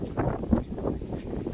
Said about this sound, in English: Man, the wind is really strong